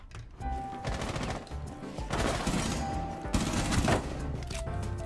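Rapid gunfire bursts from a Roblox shooter game, dense and loud throughout, with a sharp crack landing as a headshot amid continuous firing and game noise.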